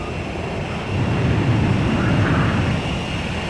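Jet aircraft engine roaring in the Ace Combat 5 video game during an in-flight refueling approach, a steady loud rumbling drone that swells briefly midway, with no talk.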